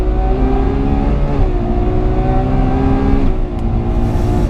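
A Ferrari 812 Superfast engine revs hard under full acceleration at the Fiorano track, its loud, sustained wail climbing steadily before a gear shift briefly dips the pitch, then climbs again, close and continuous.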